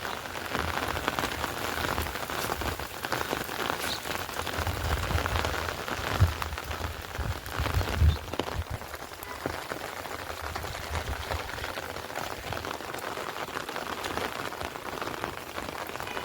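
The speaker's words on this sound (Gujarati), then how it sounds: "મિત્રો સખત બે ત્રણ દિવસથી આવી રીતના વરસાદ પડી ગયો છે" Persistent winter rain patters onto the ground in a rural Gujarat village, a constant close hiss of drops with a couple of faint low thumps partway through.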